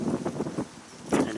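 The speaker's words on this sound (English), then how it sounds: "it's a bit windy, so I'm hoping you can hear me okay." Gusty wind buffets the microphone outdoors in a home garden, a rushing, rumbling roar that surges at the start, eases through the middle and swells again near the end.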